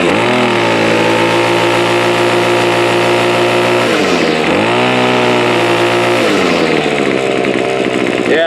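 Gas grass trimmer engine at full throttle during a cold start, with some clutch slip; a loud, steady, buzzing two-stroke whine that dips briefly twice as the revs drop and climb again, with no one talking.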